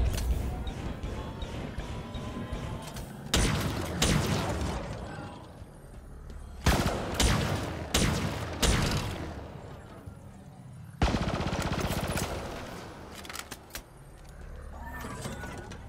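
Halo Infinite gunfire in loud, close bursts of rapid shots separated by quieter gaps, mixed with mechanical clanks and crashing impacts.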